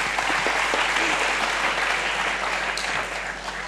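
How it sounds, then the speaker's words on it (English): Loud, dense applause from a school show audience fills the hall steadily, a broad wash of many hands clapping at once that eases off slightly near the end. "Let's give them a big round of applause."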